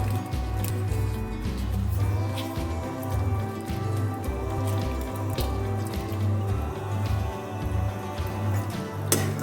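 A pot of Tamil village-style fish curry bubbles steadily on the stove, a continuous close simmering and popping texture with no talking.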